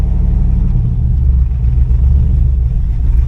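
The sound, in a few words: cammed Camaro engine running rough at low RPM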